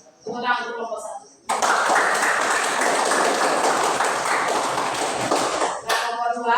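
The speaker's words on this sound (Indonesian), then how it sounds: "Ya, tepuk tangan dulu." Students in a classroom break into loud, sustained clapping for about four seconds, with a teacher speaking just before and right after.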